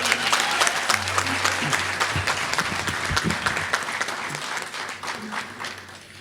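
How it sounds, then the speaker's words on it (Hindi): Loud, dense applause from a large audience welcoming Amitabh Bachchan on stage at an event, sustained clapping filling the hall for several seconds with no talk. "जोरदार तालियां।"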